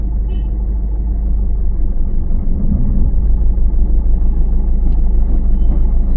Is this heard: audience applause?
no